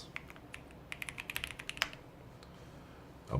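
Quick, crisp keystrokes rattle close up on a Bubble 75 mechanical keyboard with Aqua King switches, a short burst of typing that stops partway through, leaving near silence.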